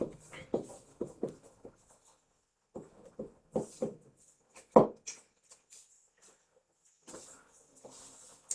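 A pen scratches across paper in short bursts of strokes, close and quiet, pausing between groups of marks with one firmer tap in the middle.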